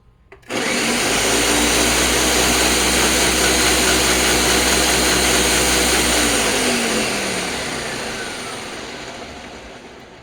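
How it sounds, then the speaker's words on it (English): A Ninja blender on medium speed chops okra with a loud, dense motor roar that starts abruptly, holds steady for several seconds, then winds down gradually as the blades slow. "here's the Ninja on medium"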